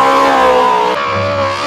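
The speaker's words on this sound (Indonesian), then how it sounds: "Mobil balap." Toy race car making a brief, loud revving engine whine whose pitch shifts partway through the short burst, with no other sounds.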